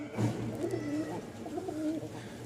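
A male pigeon at a pigeon market in Mirpur-1, Dhaka, coos close by in soft, low rolling calls, two cooing phrases in quick succession.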